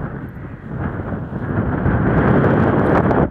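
Strong, steady seashore wind buffeting the microphone in a continuous low roar by a crumbling clay and stone cliff, rising slightly in force toward the end, with no voices.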